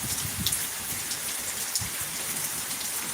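Steady rain falls outdoors, a dense even hiss of drops striking surfaces with occasional louder spatters close by, continuous throughout.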